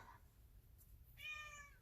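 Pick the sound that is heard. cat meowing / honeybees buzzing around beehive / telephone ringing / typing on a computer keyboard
cat meowing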